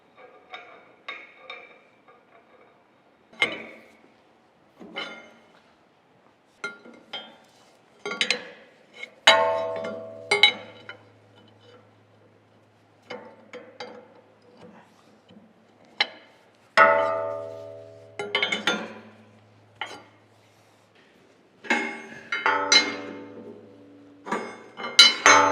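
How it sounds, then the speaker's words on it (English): Bearing caps being tightened by hand tools on a large cane mill under restoration: a string of sharp metallic clinks and ratchety taps in short bursts, close by, with pauses between and a low steady hum underneath. "Now we need to tighten them up, make sure everything will spin like it should"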